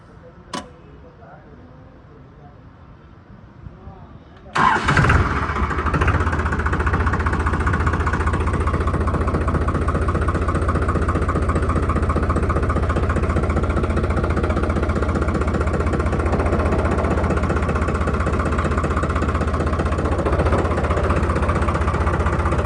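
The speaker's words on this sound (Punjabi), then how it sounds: "ਹੁਣ ਤੁਹਾਨੂੰ ਆਪਾਂ ਸਟਾਰਟ ਕਰਕੇ ਦਿਖਾਉਣੇ ਆ ਮਿੱਤਰੋ ਇਹਦੀ ਚਾਬੀ ਲਾ ਕੇ" A 3630 TX Super Plus tractor engine cranks on the key at about four seconds, catches and settles into a steady, loud, close diesel idle that runs unbroken to the end, after a quiet stretch with faint sounds.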